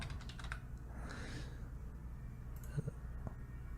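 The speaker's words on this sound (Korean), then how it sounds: "아 비밀번호를 입력을 하고요" Quiet keystrokes on a computer keyboard as a password is entered into stock trading software, a few soft clicks in a short burst against low room hum, no talking.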